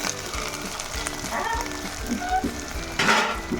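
Soya chunk biryani masala with salt, coriander and mint stirred in a pot, sizzling and frying close up with scraping stir strokes and clinks, busiest near the end.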